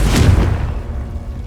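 Confringo spell exploding in Hogwarts Legacy, a single loud deep boom with a sharp onset that rumbles and fades out over about a second.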